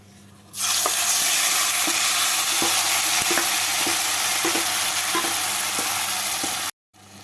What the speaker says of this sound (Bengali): গ্যাসটাকে মিডিয়াম ফ্লেমে রেখে তেলের মধ্যে সিমগুলোকে নাড়াচাড়া করে নিচ্ছি